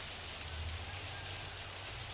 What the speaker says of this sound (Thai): อันนี้บรรยากาศฝนตกลินเลยจ้ะ